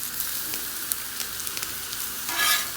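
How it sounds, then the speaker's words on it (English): Hot dogs and vegetables sizzle steadily on a Blackstone griddle, a dense close crackle and hiss with brief pops and a louder burst of frying near the end; no talking. "Listen to that sizzle."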